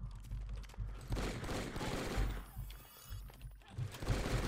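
Rapid bursts of heavy-recoil gunfire in the blocky shooter Brick-Force, a dense, continuous rattle of shots with low thumps running steadily through the whole stretch, no speech.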